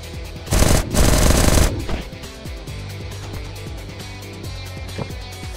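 Loud automatic gunfire from the Last Day on Earth survival video game bursts for about a second, then thinner shots and game sounds continue at lower level.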